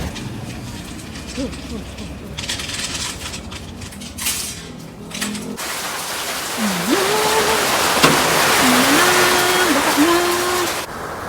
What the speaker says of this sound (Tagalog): sobrang lakas ng ulan dito sa amin